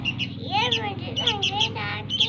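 Pet birds at a house chirp and warble steadily in bright, fluttering tweets, fairly close and lively, while a voice talks faintly underneath.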